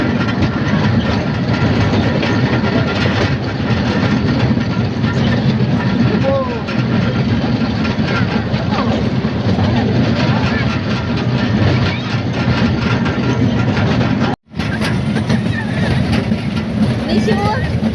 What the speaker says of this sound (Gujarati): વળાંકમાં ટ્રેન દેખાશે